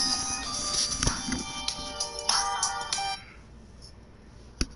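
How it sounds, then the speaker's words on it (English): A mobile phone ringtone plays a bright melodic ring close by, repeating for about three seconds before cutting off, followed by a soft handling thump. "Oh great, my phone's ringing"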